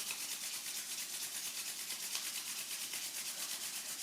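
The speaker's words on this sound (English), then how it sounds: "bring your hands together at your heart centre, rub your hands." Palms rubbed together briskly during a yoga practice, a steady soft swishing friction that runs without pause, close but faint, with no talking.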